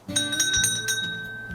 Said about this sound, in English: Whoop, the bell had gone.